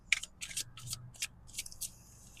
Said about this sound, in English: Let's take another breath while I'm shuffling.